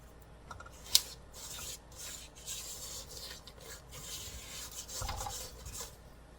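A spatula scraping the sides and bottom of a mixing bowl of gingerbread cookie dough, a soft continuous rubbing rasp with a sharper tap near the start, close and fairly quiet with no talking.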